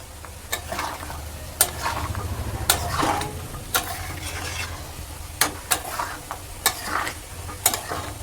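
A spoon scrapes and stirs chicken curry with garam masala in a pan. Repeated close, crisp strokes fall in an uneven rhythm over a steady low sizzle, with no talking.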